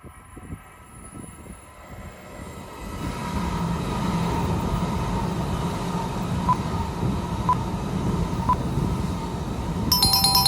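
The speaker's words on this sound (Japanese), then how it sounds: "この電車は上越新幹線時。" A Joetsu Shinkansen Toki train pulls into a station, a low rumble building and holding steady as it nears, with faint repeated chimes over the rolling noise.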